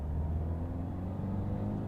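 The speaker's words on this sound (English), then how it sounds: "now with the foot down, the clatter is slightly a bit more" Modified Honda Jazz diesel tuned to 140 hp under acceleration, a steady low engine rumble and faint clatter heard from inside the car, continuous and fairly quiet.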